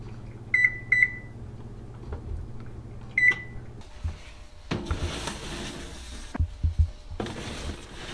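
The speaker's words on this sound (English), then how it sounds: "We're gonna turn the oven on to 400." A microwave-style oven gives a few short electronic beeps as it is set to 400, followed by clunks and rustling of kitchen handling nearby.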